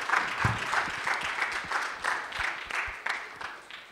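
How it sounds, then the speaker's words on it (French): An audience at a Christmas show in Lille applauds a child, a short burst of moderately faint, rhythmic clapping from a small crowd lasting a few seconds. "Bravo, on l'applaudit."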